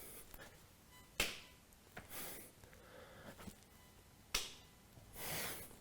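Sharp, light claps of bare feet striking together during yoga hops, three distinct quiet snaps spaced about a second or more apart over a soft room background.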